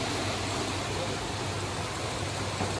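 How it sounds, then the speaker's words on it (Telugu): Heavy rain falling in Germany, a steady, dense hiss of downpour that stays constant throughout, fairly loud, with a faint low hum beneath and no voices. "సౌండ్ వినిపిస్తుందా వర్షంది?"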